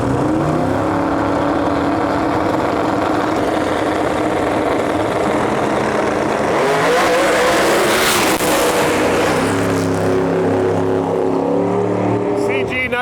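Nitrous drag race cars, including a Ford, roar loudly at a drag strip as engines rise in a harsh, sustained blast that swells midway and then settles. An announcer talks throughout.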